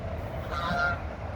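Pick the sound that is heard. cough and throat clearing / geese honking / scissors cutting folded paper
geese honking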